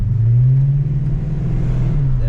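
2006 Dodge Charger V8 engine running with a deep, loud, steady low rumble and strong bass hum, heard close from inside the car, with a voice faintly over it.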